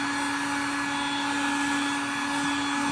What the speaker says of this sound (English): we'll see once I finish putting the blow dryer to this